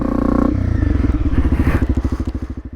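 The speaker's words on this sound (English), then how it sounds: "The bike was revving hard." A 300cc two-stroke enduro motorcycle engine revs hard and high on a muddy rutted trail, then drops into a rapid, sputtering pulsing as the revs fall and rise again, close and loud.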